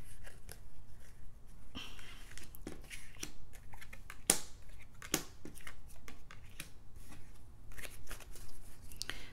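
Oracle cards being shuffled and handled for a tarot reading, with soft irregular riffles, slaps and snaps up close against a quiet room.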